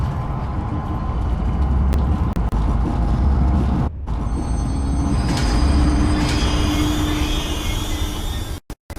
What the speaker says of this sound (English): select the giraffe enclosure on the control panel and start the train